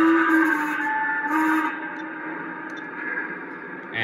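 A tonal steam whistle from a Lionel Legacy Chesapeake & Ohio H-7 2-8-8-2 model train, a sustained chord-like blast that swells and fades slightly, with some echo behind it.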